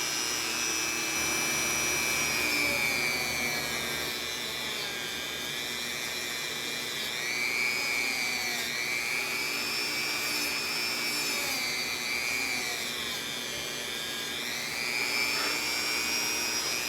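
A medium polishing wheel buffs a Selmer Reference 54 saxophone, giving a steady high whirring whine that rises and dips in pitch as the metal is pressed against it, continuous and moderately close, with no speech.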